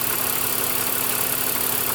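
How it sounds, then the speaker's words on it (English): A BMW E46 engine idles steadily up close, with a constant low rumble and a faint ticking lifter rattle running through it. "I think the cause of the rattle is the lifters itself."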